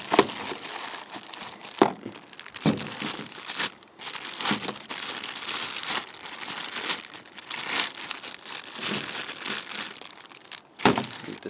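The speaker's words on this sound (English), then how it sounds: "if we open it up here, take it out of the packaging" A new Murray heater blower motor for a 1978 Ford F-150 is pulled from its packaging, with continuous crinkling and rustling of plastic and paper close by and a few sharper crackles, no speech.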